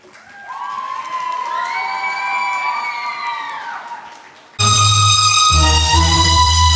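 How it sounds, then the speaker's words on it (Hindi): An audience at a Diwali cultural programme cheers, claps and whistles, with rising whistles and shouts building for several seconds before loud music cuts in abruptly and plays over the crowd noise. "तालियों और सीटियों का हल्ला थोड़ा जोर से होना चाहिए"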